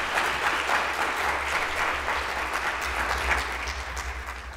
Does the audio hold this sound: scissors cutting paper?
no